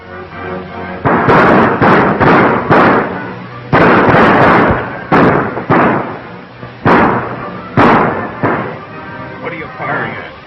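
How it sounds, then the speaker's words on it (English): Gunfire in a 1936 Western film, a rapid run of loud, close bursts of shots in uneven volleys, with a voice heard briefly between them. "What are you firing at?"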